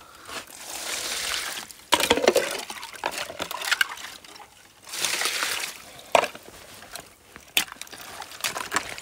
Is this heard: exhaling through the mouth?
no